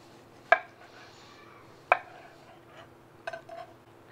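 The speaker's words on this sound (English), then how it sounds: "Okay, let's cut into it." A knife cuts into a tomahawk steak grilled in a wood-fired pizza oven. Three sharp clicks of the blade on the board or bone come at steady intervals in a quiet kitchen, with a soft scrape after the last.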